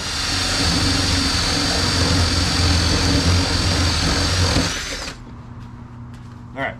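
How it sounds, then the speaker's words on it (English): A power drill cuts circular holes for an outdoor sink cutout, running loud and steady for nearly five seconds before winding down and stopping, leaving quiet room sound and a small knock at the end. "So I'm gonna drill a couple of circles here and then use a jigsaw to cut it all out."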